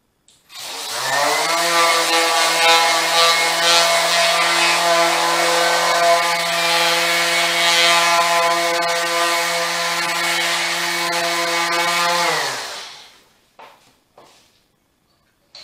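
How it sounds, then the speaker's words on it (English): An orbital sander runs on an epoxy coaster, a loud steady whine spinning up, holding for about twelve seconds, then winding down to silence. "All in my orbital sander."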